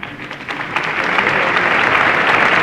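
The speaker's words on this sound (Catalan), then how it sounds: "Els aplaudiments, perquè la veritat ha impactat aquest nou estadi" Audience applauding a presentation of the new Mestalla stadium for Valencia CF on the Avinguda de les Corts, steady dense clapping that swells slightly and holds loud throughout.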